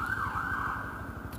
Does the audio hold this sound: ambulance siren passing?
yes